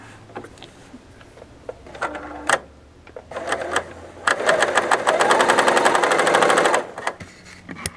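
A Bernina L890 serger sews through fabric, with a few brief stitch bursts and clicks, then a loud steady run of rapid stitching lasting a couple of seconds before stopping.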